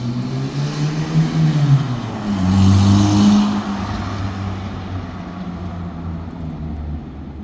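A VW Mk2 BBS Scirocco driving, its engine drone rising and falling with a swell in revs near the middle before settling into a steady cruise, heard from inside or close by.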